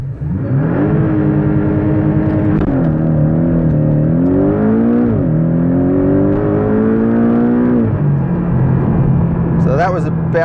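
A 2018 Porsche 718 Boxster GTS launches hard using launch control, with a little wheel spin. The engine climbs loudly and close through several gears, its pitch rising and dropping at each quick upshift.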